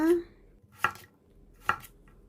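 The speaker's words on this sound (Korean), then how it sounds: "먼저 야채를 썰어 보도록 하겠습니다." A knife chops vegetables such as radish, zucchini, onion and shiitake on a cutting board for a spicy squid stew. Two sharp, separate thwacks land close, with near-silence around them.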